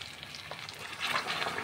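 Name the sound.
cooked mutton poured into pan, sizzling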